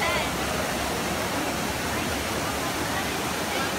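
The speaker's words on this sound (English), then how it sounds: "At the Trevi Fountain." Water splashes and rushes steadily at the Trevi Fountain in Rome at dusk, a dense, unbroken hiss that stays loud and even from start to finish.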